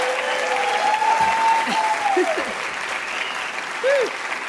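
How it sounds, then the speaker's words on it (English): An audience claps steadily after a traditional step dance demonstration, a sustained round of applause with a few voices calling out over it. "Big round of applause for Aubrey."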